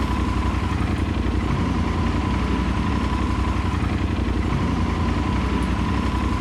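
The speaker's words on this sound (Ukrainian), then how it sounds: "бачу, двигунчик прогрівся, 50 градусів показує. Можна їхати" A warmed-up motorcycle engine idles steadily and close by, with a constant low rumble and no change in pitch, alone and without talk.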